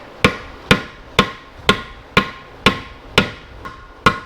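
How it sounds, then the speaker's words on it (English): A soft-face hammer taps a bearing into a classic Mini remote gearbox with nine sharp, evenly spaced knocks about half a second apart, each close and crisp with a brief ring against quiet. "So we're going to get a soft face hammer or a dead blow. We're going to push it in."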